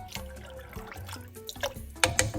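Milk, one and a half cups, pours into an Alfredo sauce in a pan, a soft close liquid trickle with a few drips and light clinks, short and quiet, no talking.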